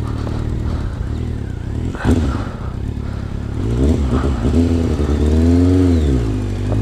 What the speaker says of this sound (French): je sais pas si vous pouvez entendre le petit claquement qu'il y a quand euh, j'accélère un petit peu